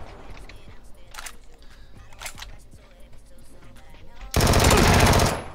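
Gunfire in PUBG, with scattered shots and light clatter under faint voice, ending in a sudden loud, dense burst of automatic fire close by.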